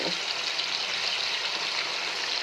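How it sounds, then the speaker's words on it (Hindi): Chicken frying with browned onions and garlic in a pan, a steady close sizzle that holds evenly for the whole stretch with no voices over it. "अब इसमें चिकन डाल के अच्छे से फ्राई करूँगी कि चिकन भी ना थोड़ी सी गोल्डन हो जाए"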